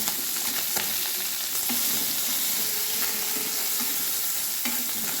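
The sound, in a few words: puti fish frying in a pan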